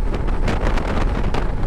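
Strong wind buffets the microphone while riding a Honda CT125 motorcycle along an open coastal road, a loud, gusty roar with uneven pulses throughout.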